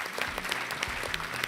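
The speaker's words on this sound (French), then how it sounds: "On applaudit, Marie." A TV game show studio audience applauds contestant Marie, a brief, even patter of many hands clapping together, moderately distant and steady throughout.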